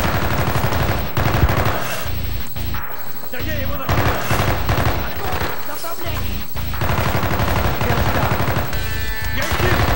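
Sustained heavy gunfire with an Enfield rifle in the Call of Duty Black Ops video game, loud repeated bursts and battle noise throughout, with voices mixed into the din.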